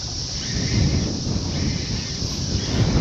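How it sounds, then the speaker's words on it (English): Gusty wind of about 40 km/h blows across open water during a fishing outing from a boat. It makes a steady, loud low rumble of buffeting against the microphone that swells slightly throughout, with no talking. "I just checked the weather. It's gusting like 40 k's an hour."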